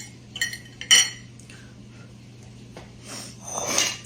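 A spoon clinks against dishes in a home kitchen where dried Great Northern beans are served, giving a few sharp metallic taps and scrapes followed by softer rattling, fairly quiet and without talk.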